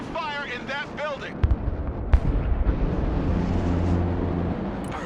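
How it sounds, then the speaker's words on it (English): Bombs explode during an air strike in the Broken Arrow military strategy game. A short burst of radio-style voice chatter comes first, then several sharp blasts rise into a deep, rolling rumble that keeps going underneath. "Coordinates received. Bombs are ready."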